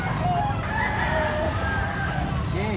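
Rooster crowing, a big yellow black-legged bullstag gamecock, with loud overlapping crows and clucking from other fowl over a steady background din.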